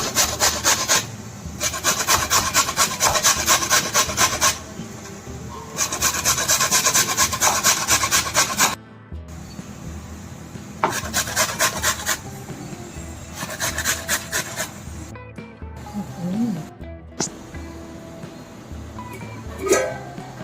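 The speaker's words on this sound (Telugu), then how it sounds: "ఇప్పుడు మూడు బంగాళదుంపల్ని తొక్క తీసుకుని ఇలా కోరేసుకోవాలి" Steady rhythmic rasping of three peeled potatoes being grated, in long repeated bursts with short pauses, close and loud.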